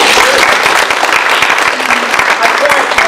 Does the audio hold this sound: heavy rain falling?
no